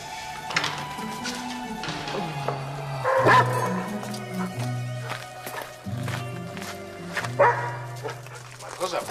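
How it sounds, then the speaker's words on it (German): A dog barks in repeated short woofs with some footsteps, close and clear, mixed with voices and background music in a German TV drama scene. "Ich mag keine Hunde."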